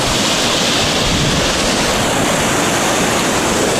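Floodwater rushes during heavy rain in a loud, constant broadband roar with no breaks, close and filling the whole stretch.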